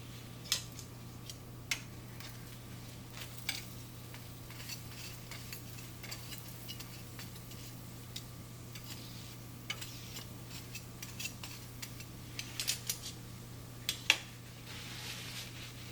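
A frozen layered paratha cooks on a low flame, giving a soft, steady sizzle with a few faint clicks and taps scattered through it, heard alone with no talking.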